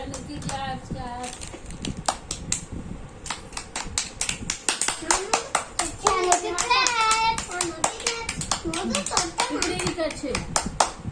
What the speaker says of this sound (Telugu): clap clap చానుకి clap